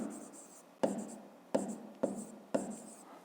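A pen writes on paper up close for a math exercise, giving four or five short bursts of scratching strokes, each opening with a tap, quiet and dry.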